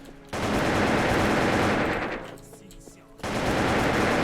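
Automatic gunfire in the video game WolfTeam rattles loud and close in sustained bursts, with a short lull before firing resumes, and a voice talks over part of it.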